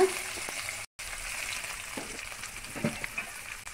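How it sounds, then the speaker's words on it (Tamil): Sliced onions and garlic cloves for an egg kulambu fry gently in a pan, a steady low sizzle with a few soft stirring scrapes, close and fairly quiet, with a short dropout. "வெங்காயம் வதங்கட்டும்"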